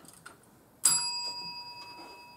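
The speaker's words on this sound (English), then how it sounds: "A single warning bell will sound 1 minute before the speaking time" A single warning bell rings once in a school debate room, a bright, clear ding that sustains and slowly fades after a quiet stretch of room tone.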